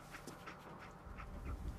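Dogmeat, the dog companion in Fallout 4, pants in quick soft bursts of breath, with a few faint whimpery tones over a low rumbling game background.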